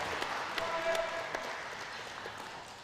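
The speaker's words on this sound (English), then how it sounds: "the closing and medal presentations with a round of applause" At a women's university basketball grand final, a crowd claps at the medal presentation. The applause is fairly faint and distant, with a few sharper claps standing out before it slowly fades.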